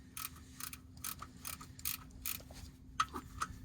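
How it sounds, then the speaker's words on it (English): Ratchet working the transmission fill plug loose on a 2002 Ford F350 with a ZF6 manual gearbox: quiet, close clicking strokes in irregular bursts over a faint steady hum, with no one talking. "I'm going to take my fill plug out."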